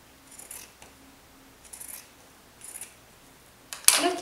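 Scissors snipping through fabric for a flared godet blouse: three soft, short cuts spaced about a second apart, then a louder, closer crunching cut at the end, with no talking.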